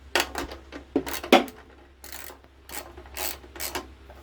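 Socket wrench ratcheting in short bursts while tightening a bolt on a lawn mower, crisp close clicking in several separate runs with pauses between.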